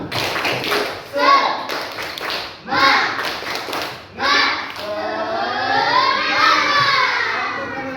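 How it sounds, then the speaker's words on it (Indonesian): Classroom of schoolchildren doing a rhythmic patterned clapping chant in a combined-grade lesson, bursts of synchronized claps alternating with children's voices shouting along, fairly close and lively. "Kita akan melakukan tepuk semangat."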